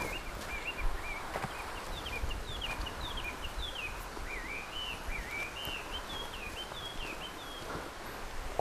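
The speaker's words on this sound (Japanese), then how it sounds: "この鳥の声やかましいの。 やっぱりガビチョウだと思うな。" Outdoors on a mountain road, a Chinese hwamei sings a loud, varied run of whistled phrases at moderate distance over faint rustling and background noise.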